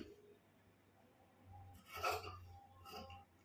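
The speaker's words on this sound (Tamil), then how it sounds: "கட் பண்ண ஸ்டார்ட் பண்ண போகிறேன்." Scissors cut through blouse fabric in two faint, crisp rasping snips about a second apart in a quiet room with a low background hum.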